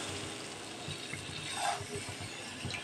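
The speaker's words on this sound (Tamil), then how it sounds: "இப்போ வந்து நம்ம புளி கரைச்சி வச்சுக்கிறத ஊற்றலாம், புளி தண்ணியே ஊற்றலாம்." Tamarind water poured into a pan of curry, a steady faint liquid trickle with light splashing that swells briefly near the middle, with no voices.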